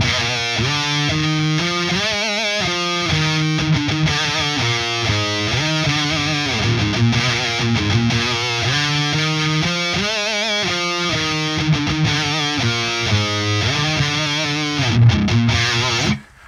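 Heavily distorted electric guitar riff played through an STL Tone Hub amp simulator, loud and continuous with chugging palm-muted notes and sustained chords over a steady rhythm, alone without voices, cutting off abruptly at the end.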